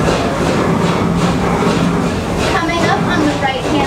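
The Serengeti Express park train at Busch Gardens Tampa rumbles along steadily with faint rhythmic clacking from the wheels, a continuous loud ride noise under talking.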